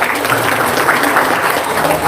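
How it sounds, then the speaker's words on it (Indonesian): A short, even burst of group clapping from a studio audience in a comedy sketch, steady and fairly close for about two seconds. "Tepuk tangan dong."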